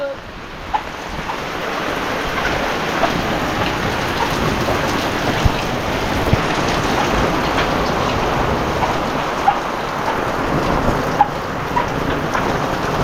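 A downpour by the sea hisses steadily for the whole stretch, loud and close, with occasional sharp drips and taps standing out from the constant wash.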